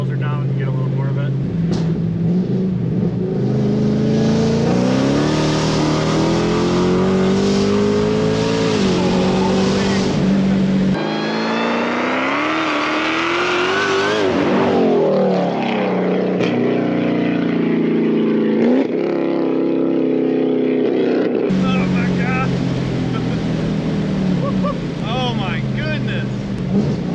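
A supercharged Dodge Challenger Hellcat accelerates hard with windows down, its engine roar climbing through the gears under a rising supercharger whine, loud and close from inside the cabin with brief shifts between pulls.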